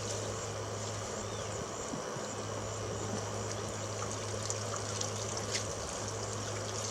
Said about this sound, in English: That's a pretty good flow.